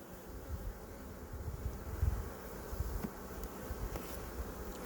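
Honeybees clustered outside a crowded beehive buzz continuously, a steady close drone with small swells and passing individual bees over faint outdoor air.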